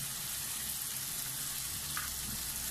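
Baingan bharta with pomegranate seeds fries in oil, a soft, steady sizzle that hisses quietly throughout with no voices over it.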